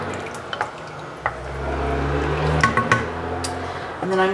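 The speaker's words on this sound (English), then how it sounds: "Stir that up." A spoon stirs carrot soup with chicken broth in a pot, giving close scraping and soft liquid swishes with a few knocks against the pot, and a brief voice near the end.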